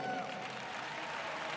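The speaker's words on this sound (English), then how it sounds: "where is applause?" Crowd applause in an arena during the evening session of gymnastics finals at the World Games, a faint, distant, continuous patter of clapping with some crowd murmur.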